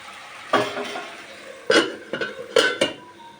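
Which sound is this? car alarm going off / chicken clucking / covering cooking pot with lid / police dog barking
covering cooking pot with lid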